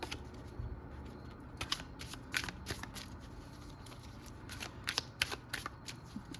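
Oracle cards shuffled by hand in repeated crisp riffling bursts, each a short flurry of papery slaps and flutters, fairly close and quiet, with no talking.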